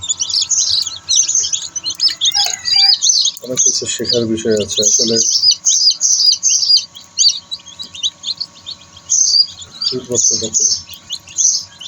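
Newly hatched Faomi chicks peep in rapid, high chirps throughout, inside an incubator. Bursts of low speech break in twice.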